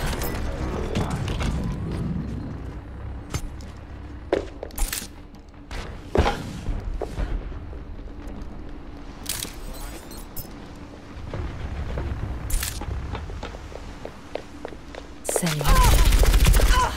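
An enemy turret in Overwatch fires off bursts of rapid, clattering shots amid mechanical clanks and thumps, dense and close, ending in a loud heavy burst.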